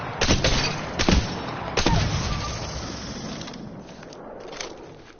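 Longbow marksman rifle shots in Apex Legends ring out as three heavy, evenly spaced cracks with booming tails, followed by a fading echo and a faint last pop, with no talk.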